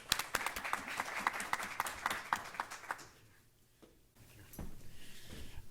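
Clapping from an audience at a business trade discussion for a speaker, Kevin Elliott: distinct individual claps close by for about three seconds, then tapering off into quieter scattered claps and room noise.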